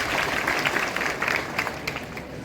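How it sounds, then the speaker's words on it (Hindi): A rally audience gives a short burst of applause, dense clapping that stays steady, moderately loud and slightly distant, with a faint murmur of crowd underneath. "हमारे लोकप्रिय सांसद बहन के लिए एक बार जोरदार तालियों से स्वागत करें।"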